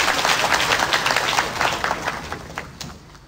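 Loud audience applause at a televised Vietnamese contest, dense clapping filling the whole stretch and tapering slightly toward the end.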